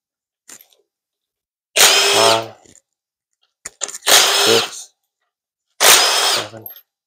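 Power tool, such as an impact or drill, backing out transmission pump bolts on a 1966 Impala TH400 during teardown, in three separate loud whirring bursts with short gaps and faint clicks between.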